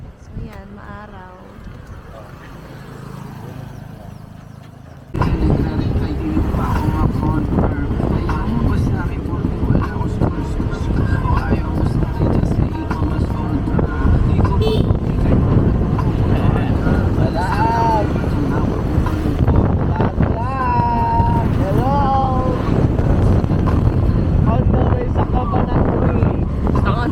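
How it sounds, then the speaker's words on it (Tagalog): Strong wind buffeting a microphone during a motorbike ride on Siargao island, a loud, rough roar that bursts in after a quieter opening and keeps blasting steadily, with voices faintly audible beneath it. "Hindi ka rinig, mahangin."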